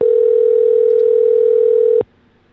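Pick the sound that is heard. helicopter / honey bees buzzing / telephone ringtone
telephone ringtone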